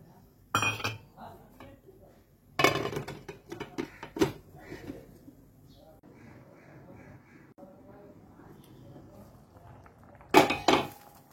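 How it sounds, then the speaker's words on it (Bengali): A lid is lifted off a pot of boiling lentils for sago khichuri. Sharp metallic clanks and rattles come in three separate bursts, with quieter clinks and kitchen noise between them. "ঢাকনাটা খুলে দিলাম, দেখি কতটা ডালটা সিদ্ধ হয়েছে"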